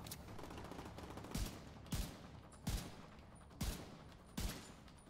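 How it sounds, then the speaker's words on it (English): SOCOM M1A sniper rifle fire in The Division 2, five sharp, spaced single shots with crisp cracks over a quiet, faintly noisy background, moderately distant and even in rhythm. "I love a good sniper rifle, and these SOCOM M1As are great"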